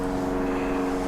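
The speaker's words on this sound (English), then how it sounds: "Sorry for the airplane noise in the background." Propeller airplane flying overhead outdoors, a steady continuous engine drone with a low hum, heard alone without talking.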